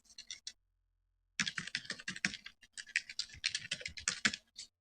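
Close, brisk typing on a computer keyboard while filling in a name and email address: a short burst of keystrokes, a second of silence, then a long dense run of clicks.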